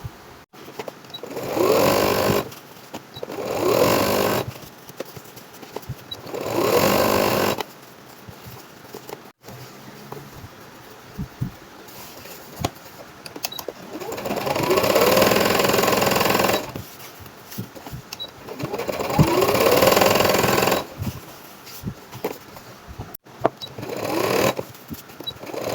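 A sewing machine stitches fabric for a turban in repeated bursts of rapid mechanical whirring, each run lasting a few seconds and separated by short pauses, close and clear, with no talking.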